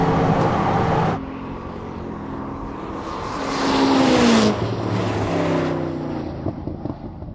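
A hypercar, either a Bugatti Divo or a Koenigsegg Jesko, accelerates in a drag race, a rising engine note swelling to a louder roar at mid-clip and then settling back, heard from a distance.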